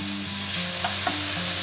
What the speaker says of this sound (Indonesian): Kita aduk sampai ayamnya berubah warna dan muncul tanda agak kulitnya agak crispy ya